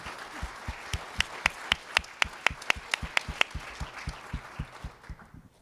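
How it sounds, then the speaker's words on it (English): A small crowd claps for several seconds, the sparse, distinct claps building briefly and then tapering off into quiet. "You can clap for them."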